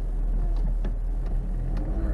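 A car engine with a failing gasket runs with a low, droning rumble and a few uneven surges of revving, heard from inside the car.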